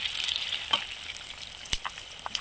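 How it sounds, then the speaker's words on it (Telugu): Spices, curry leaves, peanuts, urad dal, chana dal and mustard seeds frying in oil for tempering, a close bright sizzle with a few scraping stirs and small pops. "ఎనిమిచ్చి, ఇంగువ, కరివేపాకు, వేరుశనగుళ్ళు, మినపప్పు గుళ్ళు, చెన్నపప్పు, ఆవాలు ఇవన్నీ కూడా మనకి వేగాలి."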